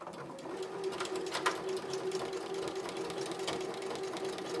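A Janome 3160 QDC sewing machine stitches fabric with a quiet, rapid, even mechanical chatter and steady hum, running continuously and close by with no talk.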